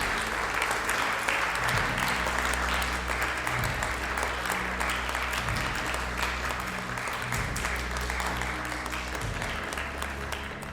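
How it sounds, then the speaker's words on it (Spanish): Staged applause of Roman senators, a thick sustained crowd of clapping hands that stays loud and even throughout, with a low repeating musical drone pulsing underneath. "Tras recibir el aplauso de los senadores"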